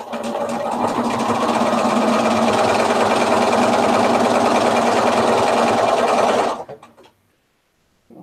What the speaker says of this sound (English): Now what we need to do is sew the two sides on.